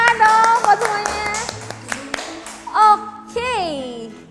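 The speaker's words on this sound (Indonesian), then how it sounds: "kasih tepuk tangan dong buat semuanya" Children clap their hands in a lively burst at an online kids' service, the claps mixed with loud, bright voices and a sung or called-out phrase that carries through the whole stretch.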